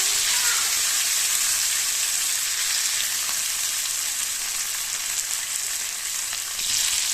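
Rock fish fry in hot oil in a pan, producing a loud, dense, continuous sizzle close up that dips briefly near the end before surging again.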